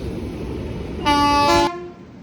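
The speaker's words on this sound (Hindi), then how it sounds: "प्लेटफॉर्म नंबर 4 पर, यानी कि वो ट्रेन अब छूटने को बिल्कुल तैयार है, इंदौर जबलपुर एक्सप्रेस" At a railway platform, the Indore Jabalpur Express sounds a loud, steady horn blast of about half a second over a continuous station hum, then it cuts off and the background noise carries on.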